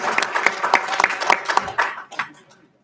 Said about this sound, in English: if we can give it one more round of applause for our 2022 winner All-FAC athletes